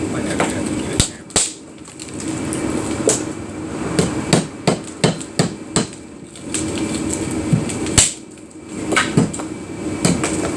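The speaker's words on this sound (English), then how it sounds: "Might have to give it a hammer." Hammer blows on a cabin being stripped of its skin: sharp, loud strikes come in irregular bursts and clusters, with a clatter of tools and knocking between them and a little voice in the background.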